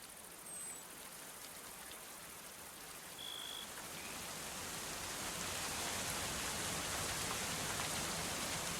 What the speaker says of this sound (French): Ah, il pleut bien là.